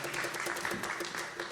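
A church congregation applauds together, steady dense clapping filling the room at moderate loudness with a faint voice mixed underneath.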